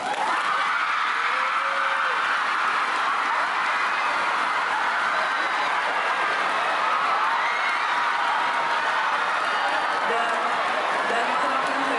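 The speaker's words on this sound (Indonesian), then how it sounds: "tepuk tangan dong" Audience at a university roadshow in a large hall, broad sustained clapping and crowd noise filling the room continuously and loudly.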